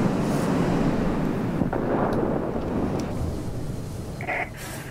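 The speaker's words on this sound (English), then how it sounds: "There's a heavy storm here." Heavy storm in the World of Warplanes video game, a loud continuous roar of wind and rumbling thunder that fades slightly toward the end, with a brief faint tone near the close and no speech.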